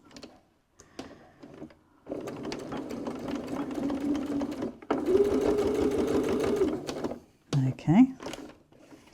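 A sewing machine stitching leather wallet pieces, running in two steady bursts of rapid mechanical chatter separated by a brief pause, with short handling noises at the start and end.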